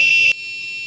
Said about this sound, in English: it has crossed the threshold and the buzzer is beeping